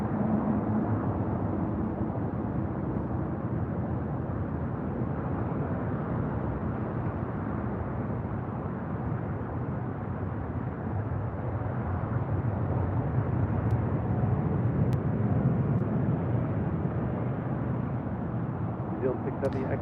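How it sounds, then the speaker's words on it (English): An Air New Zealand Boeing 777-300ER arriving from Auckland touches down at LAX with a continuous broad, deep jet roar that stays steady and fairly loud throughout, and no distinct peaks stand out. "Flight 6, coming from Auckland, 777-300ER, touching down here on the south side."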